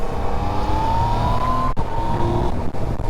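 A 2018 Yamaha MT-09 motorcycle engine drones loudly and continuously, its pitch climbing gradually as the bike accelerates, with brief dips between gears.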